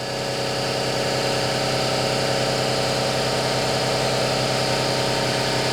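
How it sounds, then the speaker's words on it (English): Air compressor running nonstop in a home machine workshop, a loud, steady mechanical drone with a pulsing low rumble and no break, and no voices over it. "I'm sorry about the compressor."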